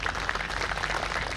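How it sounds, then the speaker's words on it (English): Brief burst of audience clapping at an educational talk on defence careers, a dense, even patter of many hands heard close and alone. "You must give the big round of applause on that."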